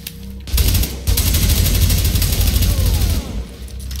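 Loud, sustained rifle fire in The Division, a heavy automatic burst after a brief single shot, with a short gap before a longer continuous stream of rapid gunshots that trails off near the end.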